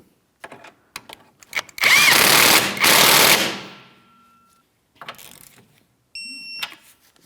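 A power tool tightens the outer mounting nut of a rear shock absorber on a 2007-2014 Ford Edge: short taps, then two loud, sustained whirring bursts that wind down, with more brief clicks and a final short burst.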